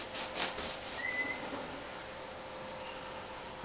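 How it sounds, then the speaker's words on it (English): A cloth rubs dust off a sanded wooden propeller being refinished by a French polisher, a close, steady brushing hiss with a few stronger wipes early on, then a softer continuous rub. "Get all the dust off."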